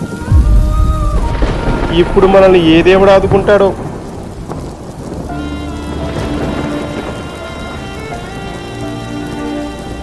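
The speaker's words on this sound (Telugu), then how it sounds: "ఈ వర్షం ఏమో తగ్గిలా లేదు." Heavy storm rain pours down in a loud, continuous hiss, with people talking over it before the rain carries on beneath a musical background.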